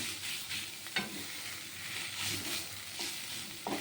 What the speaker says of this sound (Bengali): এই শাক ভাজাটা হয়ে গেল হ্যাঁ এরকম চেপে চেপে কিন্তু আপনারা শাক ভাজবেন